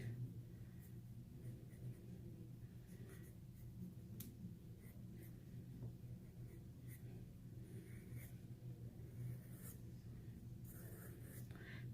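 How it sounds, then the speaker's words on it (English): Pencil sketching on paper while drawing a shadow study from life: a steady, soft scratchy rasp of graphite strokes, close and quiet, running continuously with faint low room hum underneath and no talking. "I will look at it and I will sketch it out"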